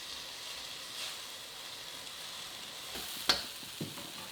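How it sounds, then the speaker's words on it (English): Panang curry paste with peanut butter and kaffir lime leaves fries in a pan, giving a steady soft sizzle with faint stirring scrapes and a sharp clink near the end, no voices. "Cook it for 3 to 4 minutes, stirring often."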